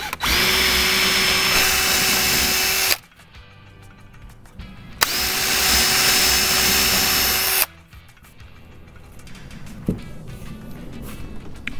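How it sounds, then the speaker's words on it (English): Power drill boring holes into the side of a tree's wood so epoxy can rise through, in two loud sustained bursts of about three seconds each, separated by quieter handling noise. "So I'm gonna drill these holes on the side here."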